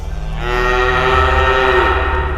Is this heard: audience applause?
no